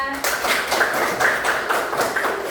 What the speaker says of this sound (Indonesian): dan tepuk tangan buat Naira